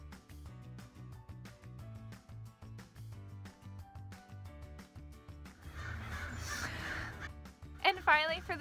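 Several bird calls, caws and clucks, sound over background music, with a brief burst of noise near the end.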